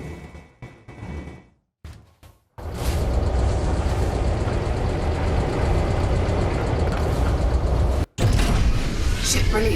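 Spaceship engines in Elite Dangerous spool up after a few brief mechanical clunks, then settle into a loud, steady low roar with a hissing top end, briefly cut once before resuming.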